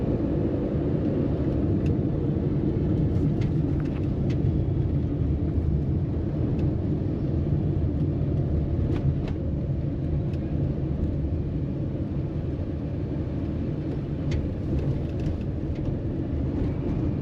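A car cruises a highway on a Kolkata to Siliguri road trip, giving a steady low rumble of road and engine noise throughout with faint intermittent clicks.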